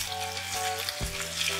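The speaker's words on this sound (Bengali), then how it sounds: "পেঁয়াজটাকে আমি হাই ফ্লেমে একেবারে গোল্ডেন ব্রাউন করে ভেজে নেব।" Onions frying over a high flame toward golden brown, a dense steady sizzle with a low hum beneath and a brief stir-like bump midway, close and unbroken by speech.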